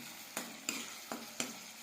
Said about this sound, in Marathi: जरासा उकळून टाकायचं आणि मग त्याला आपण हलवून घ्यायचं असं.